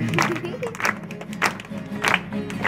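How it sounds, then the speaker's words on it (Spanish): A congregation at an evening church service claps hands together in a slow, regular rhythm, bursts landing about every two-thirds of a second beneath a talking or singing voice. "Más fuerte las palmas que suene."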